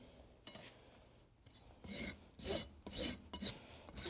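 A rasp files a horse's hoof during a trim, giving a series of dry, scraping strokes that grow louder and closer, with short pauses between them.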